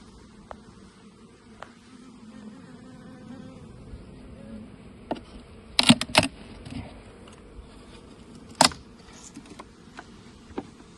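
Honey bees in a folk-style hive, sluggish after a cold morning, give off a faint low hum, broken by a few sharp knocks and clicks of frames being handled nearby.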